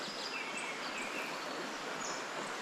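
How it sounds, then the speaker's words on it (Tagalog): Birds chirp and call faintly amid a steady wash of outdoor ambience beside a riverside garden, with an insect-like hiss filling the air throughout and no one speaking. "Mga aliwalas, mga huni ng ibon"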